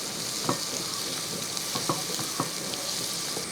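Curry leaves and an egg mixture stirred and fried in a pan, a steady sizzle with a few soft spoon scrapes spaced through it, close and moderately quiet, no voices.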